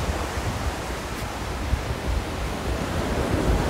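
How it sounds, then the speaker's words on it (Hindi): Sea waves wash onto Palolem Beach in South Goa, a steady, close roar of surf with soft rolling swells and light wind noise, continuous and with no voices. "मैं बीच साइड में हूँ बिल्कुल और बीच का व्यू दिखाने वाला हूँ आपको, समुद्र दिखाने वाला हूँ"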